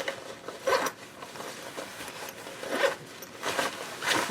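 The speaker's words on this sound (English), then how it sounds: "Go ahead and open up the zipper at this point." A zipper on a fabric packing cube is pulled open in several short, raspy bursts, close to the microphone, with brief pauses between strokes.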